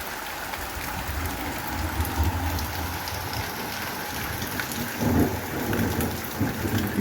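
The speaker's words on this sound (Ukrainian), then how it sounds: "У нас дощ пустився, гримить," Heavy rain pours down steadily while low thunder rumbles underneath, swelling briefly now and then; no talking.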